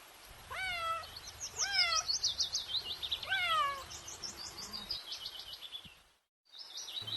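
A cat meows in several rising-falling calls, clear and fairly close, each one repeated in a steady sequence with a short break near the end.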